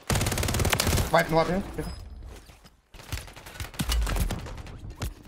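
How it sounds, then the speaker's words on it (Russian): In Call of Duty Warzone, loud bursts of gunfire crack from several directions in rapid, irregular volleys, with a brief lull midway, while someone talks over the shooting. "по мне со всех сторон стреляют"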